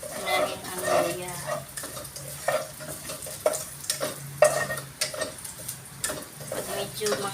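Ginger sautéing in a pan as the first step of Filipino tinolang manok, with steady frying sizzle and repeated clinks and scrapes of a utensil stirring, close and moderately loud.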